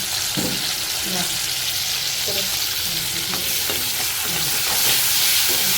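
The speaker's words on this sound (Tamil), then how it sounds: "எண்ணெய் தான் போட்டேன். எல்லாம் பொரிஞ்சிடுச்சு." Oil splutters and crackles steadily in a pan while fish curry cooks, with intermittent stirring knocks and scrapes at close range and no clear talking.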